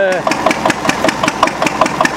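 A Witte diesel generator set cold starts with slow, heavy, evenly spaced chugs and knocks from the engine, loud and close as it turns over and begins to fire.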